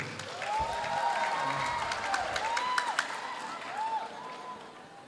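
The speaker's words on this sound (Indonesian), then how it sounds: "Tepuk tangan untuk para calon guru ini." An audience at a public dialogue in Bangka Belitung applauds future teachers, with a sustained wash of clapping and scattered cheering and voices rising over it, fading slightly toward the end.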